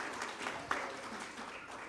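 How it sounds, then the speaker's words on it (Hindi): Audience applause fills an auditorium, a steady wash of clapping from a gathered crowd with no voices over it, moderately loud throughout. "इस सभागृह में उपस्थित सभी के लिए एक बार जोरदार तालियां बजाकर अभिनंदन कर दीजिए"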